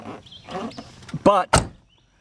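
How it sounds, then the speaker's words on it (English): BMW Z3 door swinging shut over its frame roller, landing as two solid, close thunks about a quarter second apart after softer handling noises and quiet movement. "as I close the door, I can actually feel the door kind of torque and twist upwards as it goes over this door frame roller"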